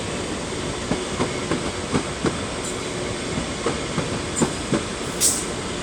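A train to Liverpool Lime Street rumbles through Crewe station steadily with rhythmic clickety-clack of wheels over rail joints and a brief high squeal near the end.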